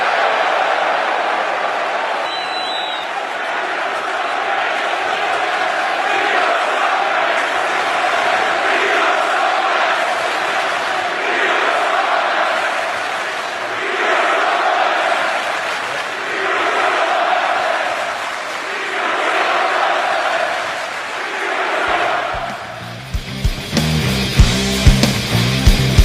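A large studio audience at a results show cheers and shouts in a sustained, loud roar, swelling in waves before giving way to sharper, clattering sounds near the end.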